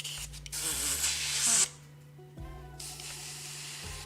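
Mr. Varnish is sprayed through an airbrush in short close hissing bursts: a strong spray lasting over a second, a pause, then a longer softer stream of hiss, with a low steady hum underneath.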